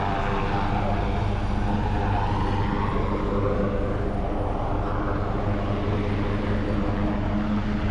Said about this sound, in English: Helicopter across the way, behind the fire station next door